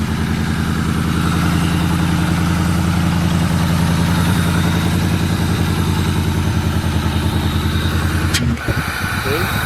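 A car engine idles loudly and close with a steady rhythmic chug, then briefly dips near the end while a person talks over it.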